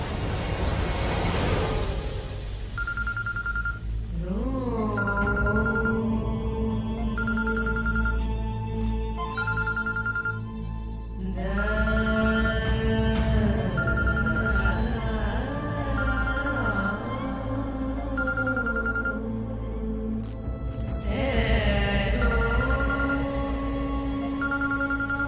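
A phone ringtone rings on repeatedly and goes unanswered, a steady repeating tone pattern over a loud dramatic music score from a Hindi TV drama scene.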